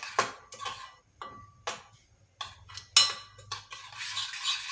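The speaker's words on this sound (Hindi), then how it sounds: "इसको हम अच्छी तरह मिक्स कर लेंगे" A spoon stirs chili sauce and soy sauce marinade in a bowl, giving a few close, uneven clinks and scrapes with short pauses between, quiet and without any talking.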